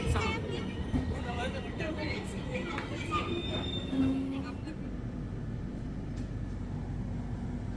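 The Chennai–Ahmedabad Humsafar Express underway: a low, continuous rail rumble with faint wheel and carriage rattle, heard mostly under people talking.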